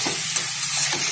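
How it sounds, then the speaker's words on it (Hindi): Red chilli being stirred into masala frying in a pan for khoya roti, giving a steady close sizzle with soft spoon scrapes and a couple of brief clinks. "मिर्चा लाल किसी मिर्च डाल देंगे और उसको चला देंगे अच्छे से, उसको हल्का सा पकने देंगे"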